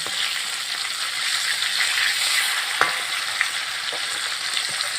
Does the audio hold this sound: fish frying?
yes